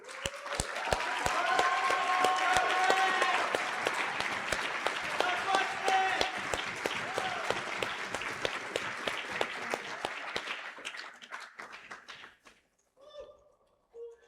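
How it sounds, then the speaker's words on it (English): An audience at an esports banquet breaks into sustained applause, with some cheering voices at first, before the clapping thins out and fades away. "let's give him a round of applause."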